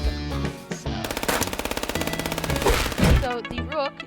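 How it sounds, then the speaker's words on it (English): Rifle fire in the first-person shooter chess game FPS Chess, where a rook acts as a sniper: a loud, rapid run of evenly spaced shots in a steady burst, alongside other game effects and brief tonal sweeps near the end. "its left click button is to shoot a rifle"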